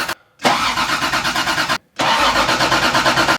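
A rally Toyota Supra's engine cranks in two long rhythmic bursts with a short pause between, the starter churning steadily up close without the engine catching.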